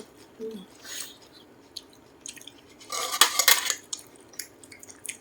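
Gourd and mushrooms stir-fried in a pan, with a quiet stretch broken by a dense burst of metallic spatula-on-pan clattering and scraping midway, then lighter scattered clinks.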